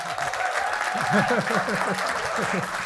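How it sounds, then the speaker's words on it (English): A conference audience at an education exchange event claps and cheers in a steady burst of applause, with voices shouting and mingling throughout the crowd noise. "please give a warm, and when I say warm, I mean a very warm Rugby World Cup 1-point winning final cheer and roar"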